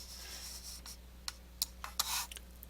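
Pen or pencil writing down a measurement answer on paper, faint scratchy strokes in short irregular bursts over a quiet low hum.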